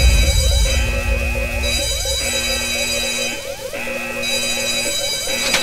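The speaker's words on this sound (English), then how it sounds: "I'm gonna shoot fire alarm." A shot-at fire alarm in the video game JazzPunk blares a loud, continuous electronic ringing with a repeating cyclic pattern, steady and close throughout, alone without speech.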